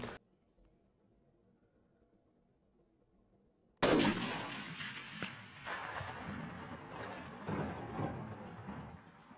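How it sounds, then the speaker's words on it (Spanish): A single loud rifle shot from a roe deer hunt cracks out of near silence, followed by a long rolling echo that fades across a pine-wooded hillside. "Con un disparo increíble, Antonio se hace con su primer corzo"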